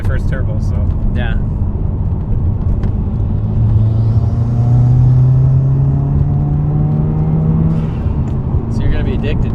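A 2015 Ford Mustang swapped to a turbocharged 2JZ engine with a Gretty exhaust drives close by, its engine rising in a long smooth pull and then easing off, while voices talk over it.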